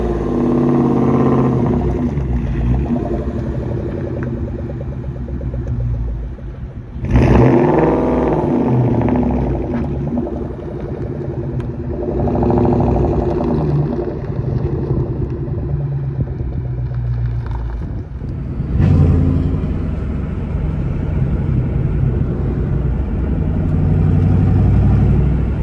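A 2003 Ford Mustang Mach 1 revs hard while driving on a hill, the engine rising and falling through several loud pulls with deep rumbling and surges about every few seconds.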